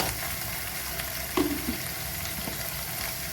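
A single bay leaf sizzles and fries in hot oil in a pan for squash and potato, with a steady crackling hiss throughout and no talking.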